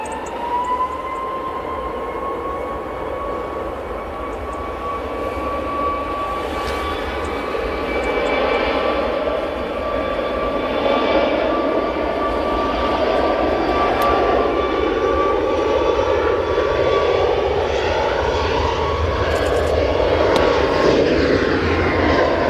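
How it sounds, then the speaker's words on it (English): A Ryanair Boeing 737 MAX 8 jet departing Manchester Airport, loud sustained engine roar with a whining tone that swells and grows fuller as it powers away, alone without voices. "So Ryanair 737 MAX 8s off to Barcelona."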